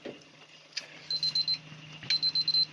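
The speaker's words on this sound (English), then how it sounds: "right there was the buzzer for 1 full minute" An electronic kitchen timer beeps in two quick bursts of four short pulses each, loud and close, over a faint background hum, while making clementine marmalade.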